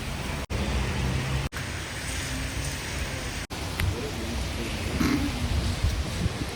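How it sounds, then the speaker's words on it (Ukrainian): Rain starting to fall on a city street in Klaipeda, a steady hiss of drops close by and fairly soft, with a few brief interruptions and faint stray sounds near the end. "дощик почався"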